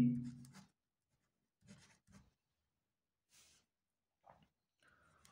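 A pen scratches across paper in short bursts during a math lesson, several brief scribbling strokes separated by silent pauses, close and soft, with no talking over it.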